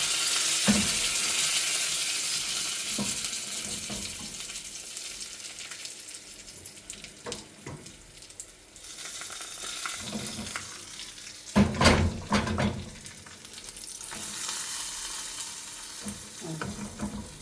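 A sizzling spiced tempering with curry leaves is poured into curd rice and stirred, giving a hiss that fades and returns with several sharp scraping clatters of the spoon, close by and without speech.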